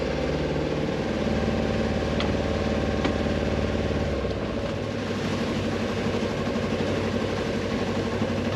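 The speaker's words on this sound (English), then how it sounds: "So let's get the motor turned off." A sailboat's motor drones steadily at sea, then cuts out around the midpoint, leaving wind and water noise rolling on alone.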